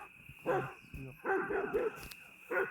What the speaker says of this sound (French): Avec les chiens de garde là, les kangals